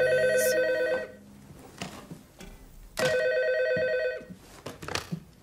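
A telephone rings: two long, bright ringing bursts separated by a short pause, then a quieter stretch with scattered faint knocks.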